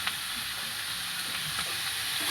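Vegetables added to chicken and onions in a hot pan for chicken soup, giving a soft, steady, fairly quiet sizzle with faint stirring ticks and no voices.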